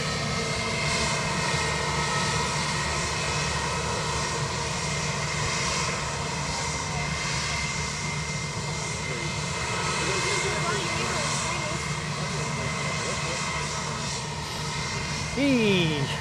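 An EasyJet jet airliner takes off at Edinburgh Airport, its engines a steady, sustained roar heard from a distance throughout, with voices talking faintly over it.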